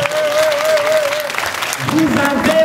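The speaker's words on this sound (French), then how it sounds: "applaudissez très fort pour nous" Applause from a crowd at a May Day trade-union street rally, a steady patter lasting throughout, with a voice talking over it.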